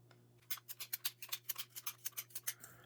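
A Maxfli CG Tour golf ball is cut in half, a quick run of about fifteen sharp, close rasping strokes in an even rhythm over a low steady hum, with no talking.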